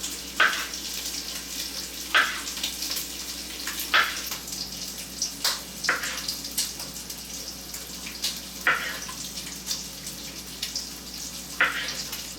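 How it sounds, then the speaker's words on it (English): Slices of whitetail deer heart frying in bacon grease, a continuous crackling sizzle punctuated by sharp bursts of spatter every couple of seconds as pieces are added or moved, close and fairly loud. "I'm just going to slice it across the grain and get it in the bacon grease."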